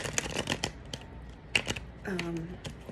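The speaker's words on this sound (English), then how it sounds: "I'll have to practice shuffling with this deck" Crisp riffling bursts of playing cards being shuffled, a few quick flurries with a voice murmuring in between.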